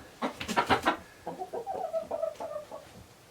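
Chickens clucking close by on a farm, a quick run of sharp clucks followed by softer, lower murmuring calls, with no talking.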